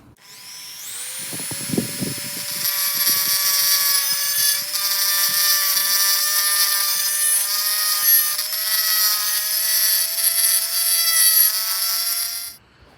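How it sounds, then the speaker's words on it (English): A Dremel rotary tool grinds a lip off a metal casting on a Brompton bicycle part, opening with a few scrapes before the motor spins up to a loud, steady high-pitched whine that holds for about ten seconds, then stops. "So what I'm going to do is use the Dremel to grind that lip off"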